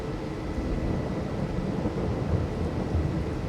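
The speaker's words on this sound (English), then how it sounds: "it's raining" Steady rain with a low thunder rumble in the Farming Simulator 22 video game, a dense continuous wash of sound with no breaks.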